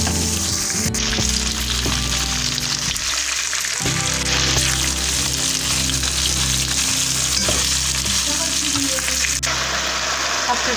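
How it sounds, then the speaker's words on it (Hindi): Potatoes and celery sauté in a pan with a loud, continuous sizzle and occasional stirring scrapes, close up, over a steady low hum throughout. "और इनको अबाउट 5 मिनट तक जैसे इसमें भून लेंगे।"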